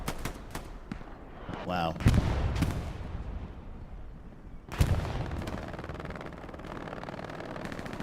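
Machine gun fire and grenade blasts in the Hell Let Loose war game, bursts of rapid gunshots with two heavy explosions, plus a brief spoken exclamation.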